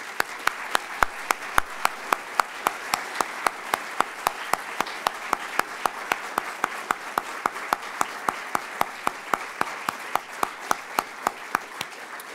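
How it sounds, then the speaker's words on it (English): An audience at a youth awards ceremony applauds its award winners with a sustained, even round of applause. Crisp individual claps stand out in a steady rhythm over the dense clapping for about twelve seconds, with no talking. "I ask everyone to join me in another round of applause for all our amazing winners"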